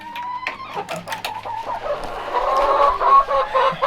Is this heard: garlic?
no